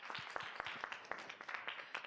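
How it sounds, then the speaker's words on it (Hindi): Quiet applause from a studio audience for a rock star performer at a singing competition, a brief, faint patter of scattered hand claps. "हमारे रॉक स्टार परफॉर्मर के लिए एक बार फिर से जोरदार तालियां।"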